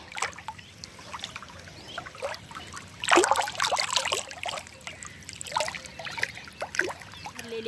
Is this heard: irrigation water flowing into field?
yes